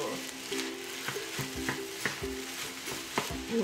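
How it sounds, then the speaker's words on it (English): Rice with chashu pork and green onion sizzles in a hot wok while a utensil scrapes and tosses it in a quick, regular rhythm of clanks. "Let's add chasyu and green onion and keep stir frying."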